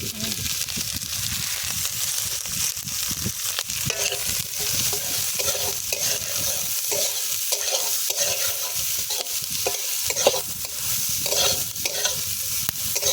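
Onions, green chillies and carrots fry in oil with whole cumin for egg masala pasta. A constant sizzle runs under repeated scraping and stirring strokes, with no talking.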